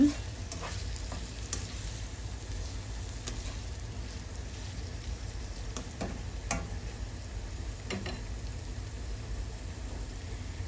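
Onion, carrot and sweet peppers stir-frying for shrimp fried rice, a soft continuous sizzle with a few sharp spatula clicks spaced through, fairly faint and without talk.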